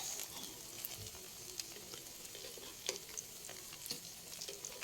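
Burger patties fry in a pan with a steady, close sizzle and light crackle, a few louder pops scattered through, with no one talking.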